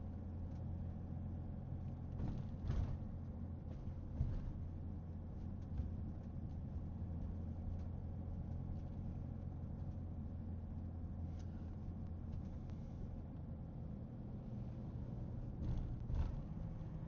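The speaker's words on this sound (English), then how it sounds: "So right now I'm driving down on Grand Street" A car driving down Grand Street in Newburgh, New York, heard from inside as a steady low engine and road rumble with occasional faint bumps, continuous throughout with no talking.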